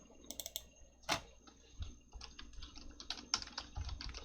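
Typing on a computer keyboard, a loose run of close, sharp key clicks and taps, some in quick clusters and a few louder strikes, with no talking.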